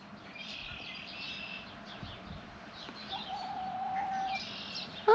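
Hens in a hen-only backyard coop chirp and tweet softly with faint clucking notes, a steady low chatter over quiet background, and a brief sharper call near the end.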